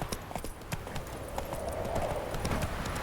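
Rapid hoofbeats of a horse galloping in The Witcher 3, a steady clip-clop rhythm running throughout at close range with no talking.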